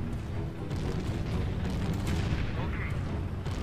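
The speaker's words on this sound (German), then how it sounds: "mit einem Schuss sind die Panzer weg" Tank cannon fire in the real-time strategy game Empire Earth, a dense, continuous barrage of booming shots and rumbling blasts over the whole stretch, loud and busy without pause.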